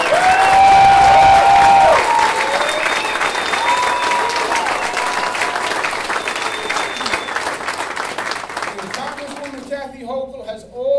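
A large crowd at a political campaign rally applauds loudly and steadily, the clapping tapering off toward the end as a voice begins.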